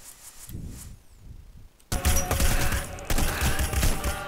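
Rapid burst of video-game gunfire from Hitman: Blood Money, loud dense shots erupting after a quieter stretch and continuing in a sustained fusillade of overlapping cracks.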